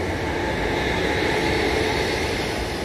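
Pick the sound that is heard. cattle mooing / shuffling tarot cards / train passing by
train passing by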